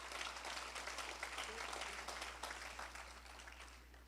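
A church congregation applauds during a worship service, a faint, distant wash of clapping over a steady low hum, gradually thinning toward the end.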